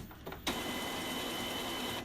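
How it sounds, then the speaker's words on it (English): An Epson WorkForce 7720 printer being opened: a sharp plastic click or snap near the start, then a steady mechanical whir or hum of the unit running up close for the rest. "what you're gonna do is just gonna open the printer"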